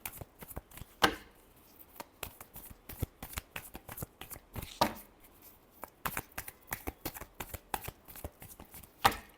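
Tarot cards are shuffled up close in a rapid series of crisp riffling snaps and taps, repeated bursts that continue throughout with no voices.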